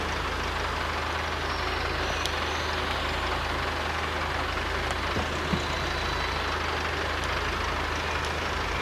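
Tractor engine idling in Farming Simulator 22, a steady low drone with constant rumble holding evenly throughout, a few faint clicks over it and no voices.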